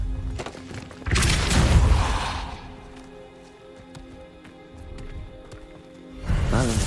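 Spell impact in Hogwarts Legacy: a loud booming burst with rumbling debris, fading into a quieter tail, then a second heavy burst near the end.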